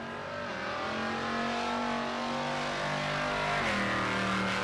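A Nova drag race car makes a pass at a Pueblo, Colorado motorsports park, its loud, steady engine roar rising in pitch and then shifting up near the end.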